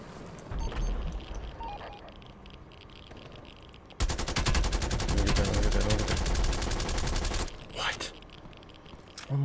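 Sustained automatic gunfire in Call of Duty Black Ops Cold War: a dense, loud burst of rapid shots runs for several seconds after scattered earlier noise, then cuts off, with a few more shots near the end.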